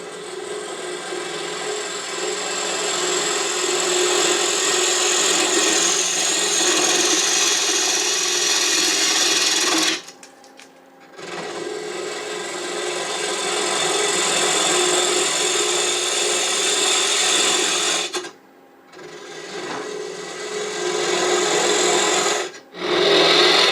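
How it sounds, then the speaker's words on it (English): A wooden box being hollowed on a woodturning lathe with a 1/2 inch spindle gouge, cutting from the center outward: a continuous close scraping, rasping whir with a steady hum, broken by a few brief pauses where the tool lifts off. "I'm initially going to start hollowing with a 1/2 inch spindle gouge going from the center out"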